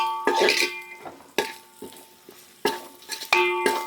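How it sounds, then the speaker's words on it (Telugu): A spoon stirring Andhra-style country chicken pulao in a metal pot: close, sharp clanks and scrapes that repeat about once a second, with no voices. "మాడకుండా అంటే అడుగంటకుండా మధ్య మధ్యలో తిప్పుకుంటూ ఉండాలి"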